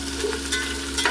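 Crushed garlic and ginger fry in hot oil in a pan, giving a steady close sizzle with light stirring scrapes and no voices.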